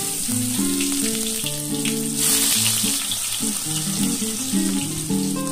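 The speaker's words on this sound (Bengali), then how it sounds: "এবার আমি ওই গরম তেলের মধ্যেই আমি বেগুনগুলো ভেজে তুলে নেব।" Eggplant slices fry in hot oil in a kadai, giving a continuous, even sizzle with a short louder surge, while steady background music plays underneath.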